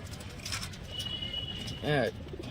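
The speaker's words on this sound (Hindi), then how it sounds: "आज देखो हमारे कबूतर देखो" Pigeons pecking grain, including a newly added pair of white Punjabi birds, give a single brief coo near the end over a steady background rustle.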